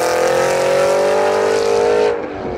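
Aston Martin Vantage GT8 engine holds a loud, steady, rich tone at high revs for about two seconds, then cuts away abruptly as it passes or lifts off, with no talk over it.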